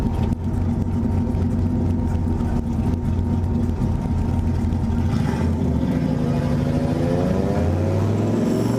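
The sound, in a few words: turbo Fox Body Mustang engine burble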